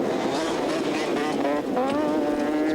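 A 350cc two-stroke racing quad bike, around 70 horsepower, screams at high revs, a loud continuous buzzing engine note rising and falling with throttle changes, close and unbroken, with a commentator's voice faintly mixed underneath.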